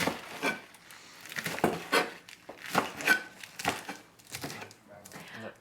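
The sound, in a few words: chopping vegetables on wooden board for braise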